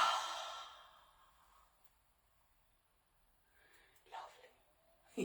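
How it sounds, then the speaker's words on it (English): A deep breath taken during a relaxation breathing exercise for lung health, a loud airy exhale at the start fading away, followed after a pause by a couple of quieter breaths near the end. "And big breath."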